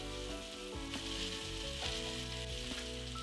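Garlic and ginger sizzle loudly in a pot as they are stirred, a constant close crackle with light scraping, and no talking.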